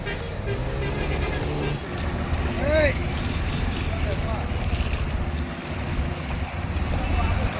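Floodwater from an overflowing lake washes in waves across the Tayalur bypass road on National Highway 75, a continuous roaring wash under strong wind buffeting the microphone.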